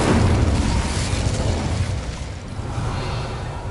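A fire spell cast in Hogwarts Legacy bursts with a loud whooshing boom, then its rumble fades over a few seconds.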